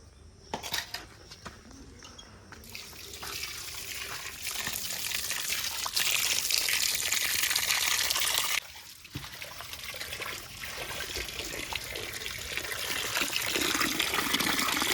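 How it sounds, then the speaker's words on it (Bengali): Cut pieces of rohu fish rinsed under a running tap, a steady splashing trickle that grows louder and fuller over time, broken by a brief dip partway through. "মাছগুলো এখন ধুয়ে নেব।"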